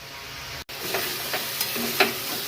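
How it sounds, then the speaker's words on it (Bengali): Arbi stems and prawns stir-fried in a pan give a steady low sizzle, with a few soft scrapes and stirring clinks rising briefly above it and one short silent break early on. "যতটা পারলাম ভাজা ভাজা করার চেষ্টা করলাম"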